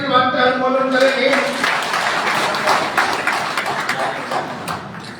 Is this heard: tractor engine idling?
no